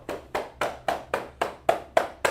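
Hands clap in a steady, evenly spaced rhythm, about nine sharp claps, close and fairly quiet with nothing else around them.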